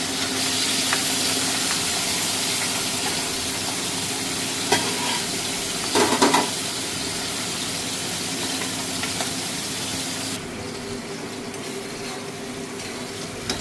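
Potatoes fry in a pan with a loud, dense steady sizzle and hiss, a few brief clatters of a utensil midway, the hiss dropping away sharply near the end.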